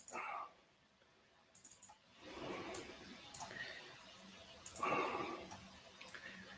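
Mouse clicks from navigating the Microsoft Dynamics Office add-on: a few sharp, scattered clicks, quiet and close, with soft background noise and faint voice-like murmuring.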